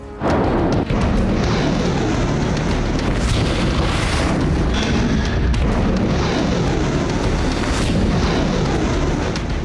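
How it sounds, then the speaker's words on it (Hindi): Russian missile strikes and explosions roar without a break, a loud, dense wall of rumbling blasts and booms with a few sharper bursts standing out. "रूसी सेना ब्लैक सी और आसमान से मिसाइल हमले कर रही है।"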